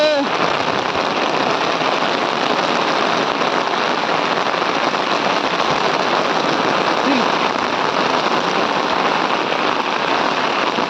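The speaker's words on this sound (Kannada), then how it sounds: "ಜೋರ್ ಬರ್ಸ ಬರ್ತಂಡು ಜೋರ್ ಬರ್ಸ ಬರ್ತಂಡು" Heavy rain pours down steadily on surfaces as a dense, continuous hiss that does not let up throughout, with no talk above it.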